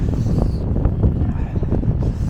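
Steady wind buffets the microphone in central Stockholm, Sweden, a continuous low rumble throughout, close and fairly loud.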